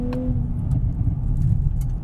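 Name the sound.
Nissan Z NISMO engine downshifting into second gear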